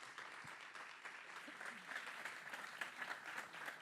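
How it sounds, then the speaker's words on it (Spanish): Audience applause at a talk on the making of a television series, a steady sustained clapping from a crowd throughout, fairly even in loudness. "un fuerte aplauso para ellos"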